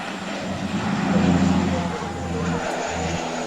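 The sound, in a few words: fire bomber aircraft flying at Malta Air Show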